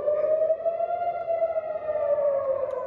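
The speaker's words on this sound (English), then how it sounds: "Sirens sound in Tel Aviv," A civil defense siren wails over Tel Aviv, Israel, steadily in a long, sustained tone, loud and alone, with only a faint drift in pitch.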